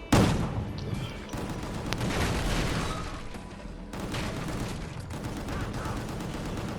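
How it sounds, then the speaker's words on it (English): Dense, rapid gunfire rattles in the action video game Gungrave G.O.R.E., with overlapping bursts and booms forming a loud, continuous barrage. "So pretty much just keep shooting everything up."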